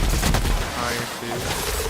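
An upgraded heavy machine gun fires in rapid bursts in The Outer Worlds, dense and loud, with game sounds layered underneath.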